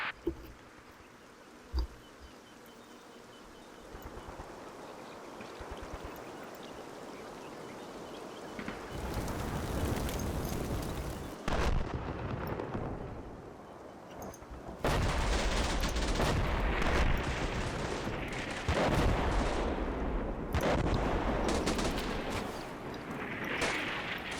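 Artillery fire mission in the Combat Mission Black Sea war game: distant booms build into sustained rumbling barrages and gunfire, growing louder and denser over the second half.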